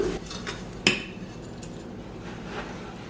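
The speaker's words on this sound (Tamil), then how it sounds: "இப்போ ஒரு நிமிஷம் நான் இந்த அடுப்பில் வச்சு இதை கிண்டி கொண்டிருக்கிறேன்" A metal spoon stirs sugar in a pan on a stove over medium heat while making a semolina and condensed milk sweet. Soft scraping runs throughout, with one sharp clink about a third of the way in.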